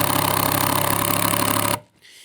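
A cordless impact driver soft-starting a screw into PVC, giving a steady whirring motor buzz with a rapid pulsing texture that cuts off abruptly, followed by a brief quieter tail.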